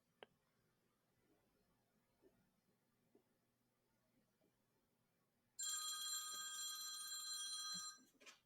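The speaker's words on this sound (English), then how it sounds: "your phone rang" A telephone rings out with a bright, trilling electronic bell for about two and a half seconds after a stretch of faint room quiet with soft ticks.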